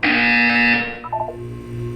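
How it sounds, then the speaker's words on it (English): A harsh, loud buzzer from the Portal 2 video game sounds for about three quarters of a second, then stops, followed by brief fainter electronic tones. "You will hear a buzzer."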